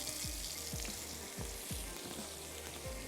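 Carrot and cabbage stir-frying on high flame for Singaporean rice noodles, a quiet continuous sizzle with a regular series of low knocks from a spatula tossing the vegetables in the pan.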